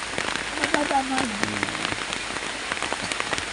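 Rain falls steadily in dense patter with sharp drips, while a faint tonal sweep passes briefly in the background early on.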